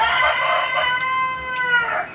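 A Black Australorp rooster crows loudly and close by, one long drawn-out call with a wavering, strained tone, heard alone without talk.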